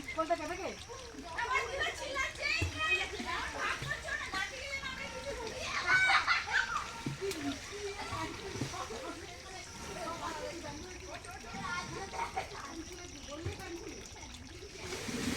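Children and relatives splash and wade in a village pond during a picnic, with steady water sloshing, trickles and bursts of splashing under constant children's chatter and shouts.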